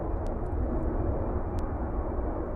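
A big jet aircraft roars overhead, a dense continuous rumble, fairly loud and alone.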